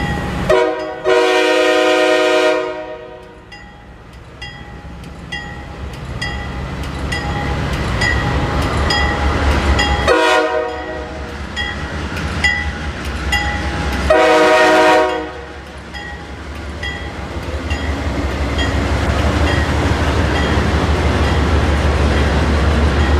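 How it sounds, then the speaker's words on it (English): An old CSX freight train hauling loaded center beam lumber cars rolls past a crossing on a rainy day, its horn blasting in several long loud calls over the steady rumble and clatter of passing cars. "It was an old CSX-8 in CSX's Tropicana yard, hauling a loaded center beam down to 84 lumber"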